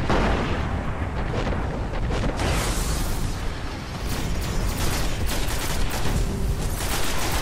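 A grenade blast in the Destiny video game lands amid sustained loud, rumbling gunfire and explosions, a dense, continuous roar of combat noise with no clear pauses.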